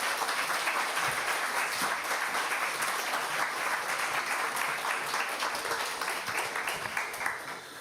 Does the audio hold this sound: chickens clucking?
no